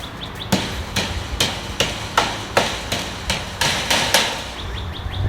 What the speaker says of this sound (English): I'm gonna go down here and hammer all of them down